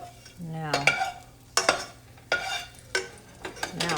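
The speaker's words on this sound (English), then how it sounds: "so that I could sort of stir fry my rice a little bit" Uncooked rice is stir-fried in a pan, a series of scraping stirs with a low sizzle underneath, in about six distinct strokes of a spoon against the metal, close up, with no talking.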